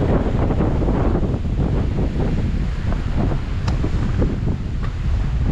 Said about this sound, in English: This wind is absolutely brutal.